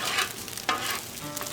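Eggs frying on a Blackstone griddle, a steady close sizzle with scraping and stirring noises and a brief sharper burst midway, no voices.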